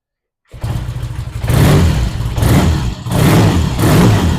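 A Triumph T100 motorcycle engine bursts into life after a short silence and runs loud and close, swelling in two strong revs with a dip between, rough and throaty throughout.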